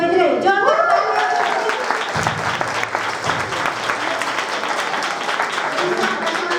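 An audience at a church prize distribution ceremony claps steadily for a prize winner, a loud, sustained round of applause with a brief low hum partway through.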